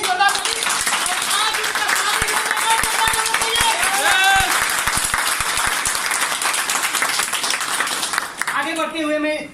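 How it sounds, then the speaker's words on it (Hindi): An audience at a Gano therapy talk gives loud, sustained applause, dense clapping filling the room for the whole stretch, with cheering voices mixed in and tapering off at the end. "मंडल सर के लिए प्लीज जोरदार ताली।"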